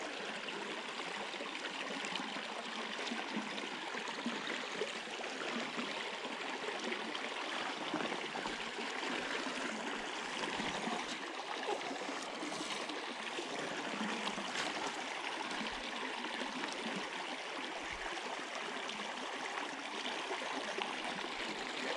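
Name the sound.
noisy stream water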